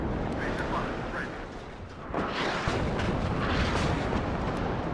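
Artillery fire in the WARNO war strategy video game, a heavy rumbling blast with a lingering roar that swells after a brief lull.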